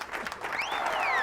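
Audience applause after a Beethoven concert, a brief burst of dense clapping with crowd noise, steady and fairly close, with a rising whistle-like tone sweeping over it.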